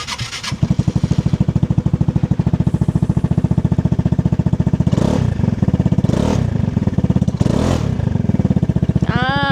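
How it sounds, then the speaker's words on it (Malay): A loud Vespa GTS 300 Supersport scooter engine with an Akrapovic exhaust runs close by with a rough, throbbing idle, broken by three quick throttle blips and a final rising rev. "so sekarang ni ada nak belanja sikit bunyi Vespa old school yang 300cc ni macam mana"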